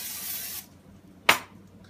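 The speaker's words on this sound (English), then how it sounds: "spray the pan one more time." Cooking spray hisses onto a pan on a stove for about half a second, then a second short, loud burst follows after a pause, close and alone.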